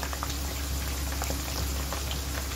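Slit green chillies frying in hot oil for a highway chicken karahi, a dense, continuous crackling sizzle with popping bubbles, close and unbroken for a few seconds.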